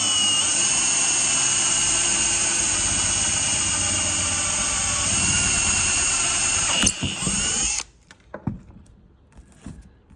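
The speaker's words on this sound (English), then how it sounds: "as we pass through this first bit of pipe, pull back on the drill" A power drill bores at steady, controlled speed through a metal pipe to fit a 13mm sensor plug and grommet, a loud continuous whine that cuts out abruptly near the end, leaving faint clicks and handling noise.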